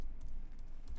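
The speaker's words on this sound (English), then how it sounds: "I'm really bad at typing, so I have to actually check every time that it's correct" Keyboard typing on a computer while installing software with Helm and WordPress, heard as a few soft, faint keystrokes against a steady background hum.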